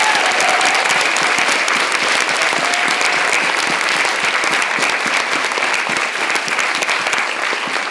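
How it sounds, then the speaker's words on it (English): Dense, steady applause from a school drama audience for the cast and crew of a Christmas pageant, loud and sustained throughout with no voices. "So big round of applause for these guys"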